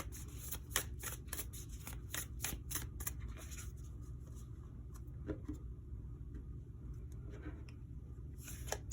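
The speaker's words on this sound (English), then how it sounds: "Between readings, I shuffle these decks." A tarot deck is shuffled in quick riffling bursts, a rapid flurry of crisp snaps early on, then sparser flicks over a low background rumble.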